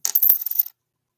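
Small silver coins clink and rattle together in a short, bright jingle of several quick metallic taps, close and loud, then stop abruptly into silence.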